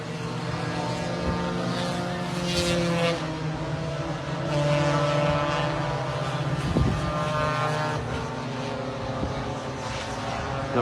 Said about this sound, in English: watching the scooters go through there, through these two lefts and the centre S's